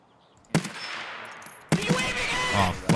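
Gunfire in Escape from Tarkov: two sharp onsets, a single shot followed by a lingering tail, then a denser burst of shots with ringing reverberation, loud and close.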